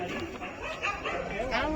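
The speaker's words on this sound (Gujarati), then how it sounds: "કૂતરા રડે આ બાજુ" Dogs whine and whimper in high, wavering cries at a Navratri night event, mixed with nearby voices talking over them.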